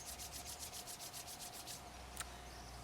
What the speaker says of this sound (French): Avant qu'on démarre, je propose qu'on se frotte un petit peu